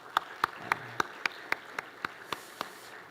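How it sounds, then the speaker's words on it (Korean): A church congregation at a special New Year dawn revival service claps in a slow, even rhythm, about eleven distinct claps spaced roughly a quarter second apart, moderately close, without speech. "우리 한번 격려의 박수 한번 드립시다."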